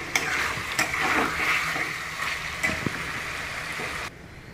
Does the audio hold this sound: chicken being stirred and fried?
yes